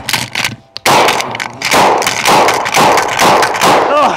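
Trench shotgun fired outdoors in a rapid string of loud booming blasts after a brief pause, the reports overlapping with metallic clanks of the action and a short voice at the end.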